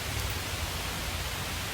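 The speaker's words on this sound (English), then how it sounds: "The rain hitting the water." Steady rain falling onto a stream outdoors, a continuous broadband hiss and patter with no breaks, fairly loud and close throughout, with no voices.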